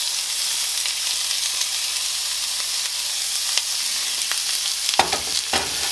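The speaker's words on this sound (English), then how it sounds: "I have some oil in my cast iron skillet that's heated up. To that, I'm going to add a small onion that's been chopped up" Chopped onion hits heated oil in a cast iron skillet, giving a steady bright sizzle throughout, with a few louder clattering stirs near the end.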